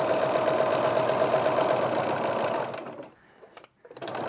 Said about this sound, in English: Now I'm stitching right round the pocket, about 3 millimeters, 1/8 of an inch from the edge.